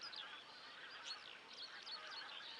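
Wild geese honking during a spring hunt by the sea, a flock's overlapping calls carrying from a distance, faint and continuous against open-air background hiss.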